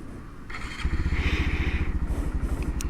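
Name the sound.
2019 Honda Monkey motorcycle engine starting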